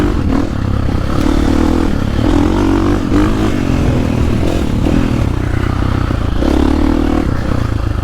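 A 2022 KTM 450 Factory Edition dirt bike is ridden hard, its engine revving and pulling in repeated surges through corners, loud and close with clatter and wind noise over a steady roar.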